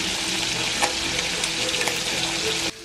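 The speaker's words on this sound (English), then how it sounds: "Just spat bacon grease on my camera." Bacon frying in a pan on a wood-fire cook stove, a steady loud sizzle and crackle with occasional sharp pops of spitting grease, running continuously before dropping off suddenly at the end.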